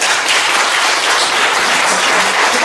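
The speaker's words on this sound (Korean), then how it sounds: "박수" Dense, steady applause from a church congregation after a sermon at a charity event for North Korean children, loud and continuous throughout with no voices above it.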